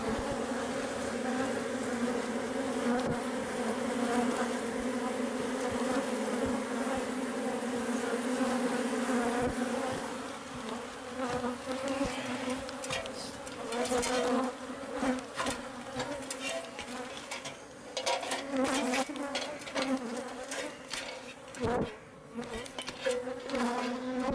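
A dense swarm of bees from a hive inside a wall hums in a steady, close drone throughout, with scattered knocks and handling noises in the later half.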